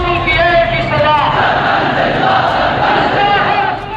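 A large protest crowd in the streets of Lahore shouts and chants together, a loud, dense and continuous roar of many voices that stays close and full throughout.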